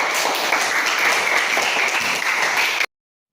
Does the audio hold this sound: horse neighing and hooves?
no